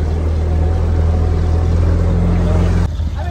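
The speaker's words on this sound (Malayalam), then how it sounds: "നമ്മുടെ ബോട്ട് സ്റ്റാർട്ടായി." Motor boat engine running close by on mangrove backwaters, a loud steady low drone that cuts off abruptly near the end.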